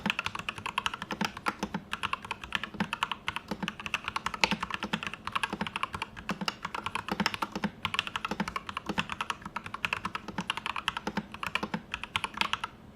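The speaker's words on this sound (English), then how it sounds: "have a listen to what these keys sound like now that I've lubed them with the Glorious Link switches and standard grease" Rapid, even keystrokes clack on a custom mechanical keyboard with Glorious Link switches lubed with standard grease, a dense close-miked patter of soft thocks that runs steadily with no talk.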